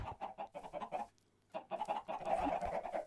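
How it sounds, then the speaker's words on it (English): Chickens in the Minecraft video game cluck at close range in quick, choppy bursts, with a brief pause partway through before the clucking resumes. "Yeah, there's a chicken. There's two chickens right there."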